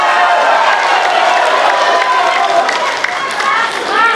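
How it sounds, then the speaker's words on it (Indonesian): An audience at a Papua gubernatorial election debate applauds and cheers continuously, a broad wash of clapping filling the room without any clear speech. "Tepuk tangannya boleh hadirin sekalian."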